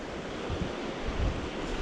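Fast river current on a fly-fishing run rushes steadily, a dense broadband wash with low rumbling surges and some wind buffeting on the microphone, no voices.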